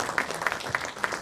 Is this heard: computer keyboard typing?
no